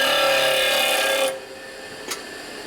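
A grinder works the tip of a Harley Sportster Ironhead 1200 rocker arm, a bright, loud continuous whir that cuts off abruptly partway, followed by a quieter hum and a brief tap.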